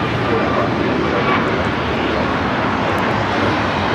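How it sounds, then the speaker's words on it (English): Korean Air Boeing 747-8 Intercontinental jet taking off from LAX, bound for Seoul: a loud, steady broadband engine roar filling the air throughout, with no letup. "This is Korean Air Flight 18 taking off to Seoul on the 747-8 Intercontinental."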